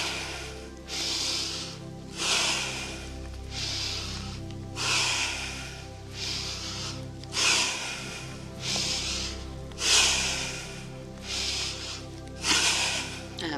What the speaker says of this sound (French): on va venir faire ce mouvement avec une inspire et une expire assez rapide